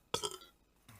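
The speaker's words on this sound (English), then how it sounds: "I'm going to burp." A single loud, close burp erupts and drags on for about a quarter second before trailing off, followed by a faint low murmur near the end.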